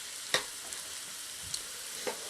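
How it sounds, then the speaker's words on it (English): Chicken and sausage meat sizzling softly in a pan, with a few sharp scraping clicks of a spatula stirring and breaking it up at irregular moments over a quiet frying hiss. "I normally cook this for about 10 to 12 minutes, stirring it."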